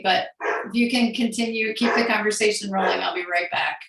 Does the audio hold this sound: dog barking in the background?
yes